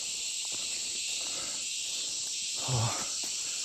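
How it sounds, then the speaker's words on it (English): A steady, dense high-pitched drone of cicadas fills a bush campsite at night, unbroken throughout, with a few faint rustles and a brief low thump near the end. "Just me and the cicadas tonight."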